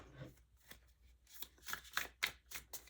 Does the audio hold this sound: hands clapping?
no